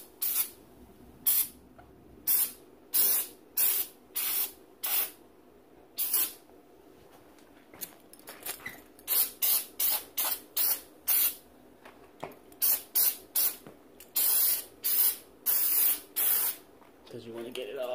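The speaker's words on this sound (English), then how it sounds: "you can spray that down too" Repeated short bursts of a trigger spray bottle misting cleaner onto a part before scrubbing, dozens of quick hissing squirts in uneven clusters, close and crisp, with brief pauses between groups.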